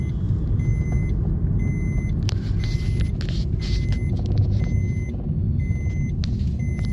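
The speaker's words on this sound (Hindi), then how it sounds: "यहाँ पे विविध प्रकार की गाड़ियों का जो है संगम और समावेश लगातार ही बना हुआ रहता है।" Busy road traffic with many kinds of vehicles passing in a village lane, a constant loud engine rumble with horn-like beeps repeating in a regular pattern and occasional sharper noises, no talk.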